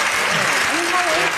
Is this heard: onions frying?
no